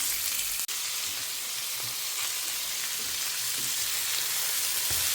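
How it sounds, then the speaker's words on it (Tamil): Bitter gourd frying in a pan, a steady close hiss of sizzling oil that crackles continuously, with a few faint stirring knocks and no voices. "இதை நல்லா சதக்க வறுத்துன்ட்டு இதை நம்ம அரைச்சி எடுத்துக்கணும்."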